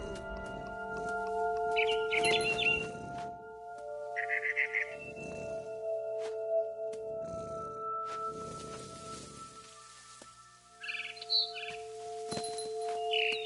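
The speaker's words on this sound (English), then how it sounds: "It was a barn swallow going back to her nest." A frightened barn swallow near its nest gives short, high chirping bursts in scattered clusters, with quieter rustling and a steady tonal hum beneath.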